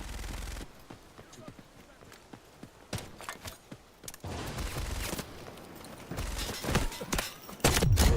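Light machine gun fire in the Delta Force extraction shooter, with a heavy gunner among a large group of enemies near a bridge, rattling off in dense bursts amid other shots, footsteps and battlefield clutter that grows louder toward the end.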